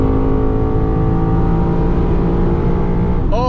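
A Lexus RC F with a GTHAUS aftermarket exhaust drones loudly and steadily while driving through an underpass, its deep exhaust note rising sharply in pitch at the very end.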